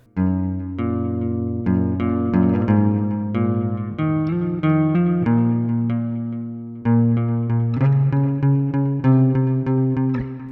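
An electric guitar plays the repeating riff of a song at a slow, steady pace, each note ringing with a light chorus-like shimmer and no voices.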